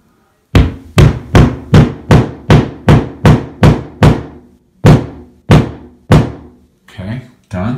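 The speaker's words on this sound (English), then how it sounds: "And then we're going to take a hammer" Hammer tapping a foldable wall anchor into a wall until flush: about a dozen sharp, loud, evenly spaced knocks, a short pause, then a few more, ending with fainter handling noise.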